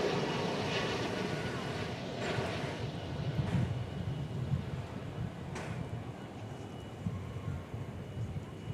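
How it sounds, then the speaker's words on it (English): An Airbus A321 arriving at DFW Airport rumbles as a steady, moderately distant jet roar with wind noise, holding a broad low drone throughout with no clear talk. "Flight 2667, an Airbus A321 coming in from Los Cabos in Mexico"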